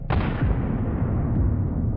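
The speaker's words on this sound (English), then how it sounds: "you can see the force with which the improvised storage exploded" Improvised storage of hundreds of mines on a destroyed village street explodes after a drone strike: one sudden loud blast followed by a heavy, sustained rumbling roar that keeps going without fading.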